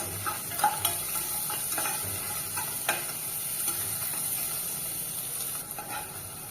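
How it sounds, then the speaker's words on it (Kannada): Dry red chillies, cinnamon and cloves being stirred and roasted in a hot pan for egg sambar, a soft steady sizzle with scraping stir strokes and faint clicks, close and without talk. "ಈಗ ಮಸಾಲೆ ಪದಾರ್ಥ, ಒಣಮೆಣಸಿನ್ಕಾಯಿ, ಚಕ್ಕೆ, ಲವಂಗ ಇದನ್ನು ಬಿಸಿ ಮಾಡ್ಕೊಳ್ಳಿ"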